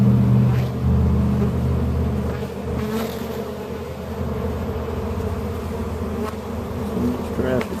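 A steady, dense buzzing hum of many honeybees inside a hollow tree, close and loud, with low traffic rumble running underneath.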